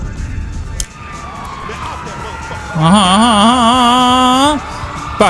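A wailing police siren rises and falls loudly for a couple of seconds over a busy GTA 5 game soundscape, then cuts off.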